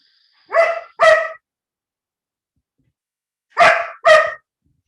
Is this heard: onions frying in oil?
no